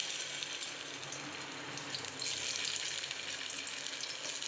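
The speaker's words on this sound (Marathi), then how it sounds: "तेल गरम झालेलं आहे आता आपण एक एक चक्ती याच्यामध्ये ठेवून घेऊ" Spicy bitter gourd slices shallow fry in hot oil with a soft, steady crackling sizzle that grows a little louder halfway through, heard alone and fairly faint.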